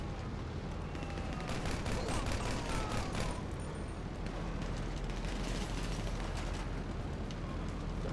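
Gunfire in GTA Online during a co-op mission: a continuous, rumbling barrage of shots and blasts over a dense low roar, with a faint voice briefly underneath.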